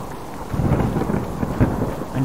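Rain patters steadily and thunder rumbles low in the game Subsistence, a continuous storm bed with rolling thunder swelling throughout.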